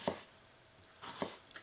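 A very sharp Eqard Damascus kitchen knife slicing through a tomato's skin: two short, crisp cutting strokes about a second apart, close and fairly quiet, with nothing else heard.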